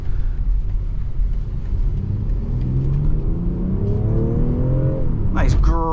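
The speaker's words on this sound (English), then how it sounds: "Nice grunty acceleration from the B58 with a nice tone to it." A 2023 BMW X4 M40i with its B58 engine accelerates on the road in comfort mode, a deep grunty rumble rising steadily in pitch through the gears, heard from inside the cabin before a brief shift.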